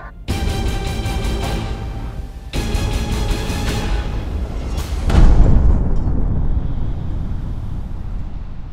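Munitions destroyed by deminers in a controlled explosion in Mali, a deep booming blast about midway that rolls into a long rumbling decay, heard from some distance after a steady droning noise.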